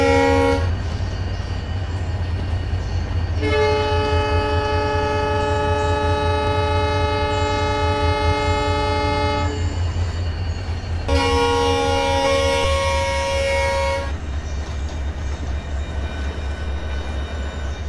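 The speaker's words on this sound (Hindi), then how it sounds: "थोड़ा भाई तुम भी हॉर्न बजाते रहो, क्योंकि शंटिंग कर रहे हो तो तुम्हारा हॉर्न बजाना बनता है थोड़ा।" A WDG4 diesel locomotive horn sounds during shunting in Train Simulator 2023, giving two long, loud harmonic blasts, the second shorter, over a steady low engine rumble.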